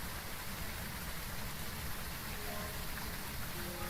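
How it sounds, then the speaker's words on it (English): Rain in the ghost-hunting video game Phasmophobia falls as a steady, soft hiss of drops that stays even and fairly quiet throughout. "And the rain is making it really nice."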